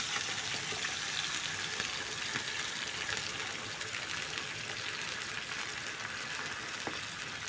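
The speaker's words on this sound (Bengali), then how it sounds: "এবার দিয়ে দিচ্ছি জল।" Water goes into frying masala for an egg curry, bringing a steady broadband sizzling hiss with a rushing, gushing texture that holds evenly throughout, fairly faint and close.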